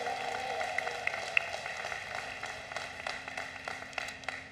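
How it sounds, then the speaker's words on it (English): A large commencement crowd applauds in a steady, distant wash of many hands, continuous and fairly faint throughout with occasional sharper claps rising above it. "Had a round of applause for First Lady Dawn Moore."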